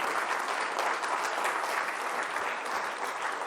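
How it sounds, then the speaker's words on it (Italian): A studio audience on an Italian sports television program claps in a warm, even wash of applause, moderately loud and continuous for a few seconds without any voices over it. "facciamo un bel applauso a Ilenia Bigi"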